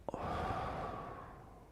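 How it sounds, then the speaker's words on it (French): One soft breath, drawn in briefly and then let out as a long, fading exhale, close and quiet with nothing else around it. "Une respiration."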